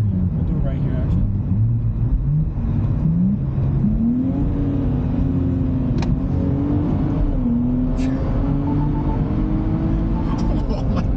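Nissan Z pulling hard through the gears, engine note climbing steadily and loud up close, with people talking over the roar throughout.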